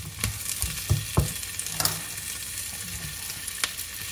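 Tomatoes frying in a pan with shrimp paste cooking for squash and green beans, a steady soft sizzle with occasional stirring scrapes and clinks, close and fairly quiet.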